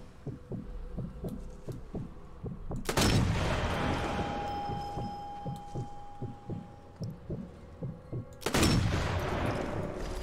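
Sharp rifle shots from Sniper Elite 4 on San Celini Island, two loud cracks several seconds apart, each trailing into a long echoing decay over a quiet rhythmic thumping background.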